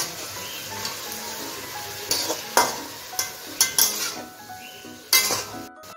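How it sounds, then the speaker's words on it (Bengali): Lau saag greens with salt and turmeric stirred in a pan: a soft frying sizzle under a run of sharp metallic scrapes and clinks of the spoon against the pan, several distinct knocks near the end. "এখন একটু নাড়িয়ে নিচ্ছি। নুনটা হলুদটা শাকের সঙ্গে মিশিয়ে নিচ্ছি।"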